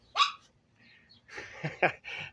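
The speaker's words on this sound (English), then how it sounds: "I thank you all so very much for putting up with the dogs barking" Dogs bark near a backyard vegetable garden in short yips and woofs, one sharp bark and then a cluster of several more at moderate distance.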